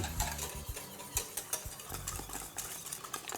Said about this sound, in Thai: เสร็จแล้วก็นำมาตั้งไฟครับ กวนให้ส่วนผสมสุกและข้นดี